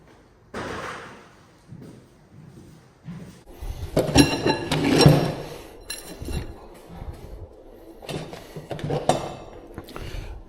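A ratchet with a special socket winds a garage door torsion spring, giving bursts of metallic clicking and clinking between quieter handling noises, close and moderately loud.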